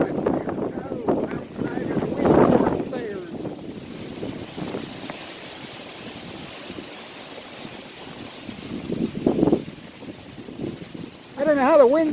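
Strong wind on a hilltop buffets the microphone in rough, rumbling gusts that swell and fade, with a voice speaking briefly amid the roar.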